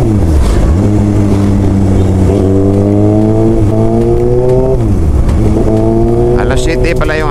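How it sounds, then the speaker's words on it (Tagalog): A motorcycle engine roars loudly and continuously while being ridden on a street in Cebu, its pitch climbing and dropping through repeated gear shifts and throttle changes, filling the whole stretch. "Gawa na ang sobrang ingay ng motor"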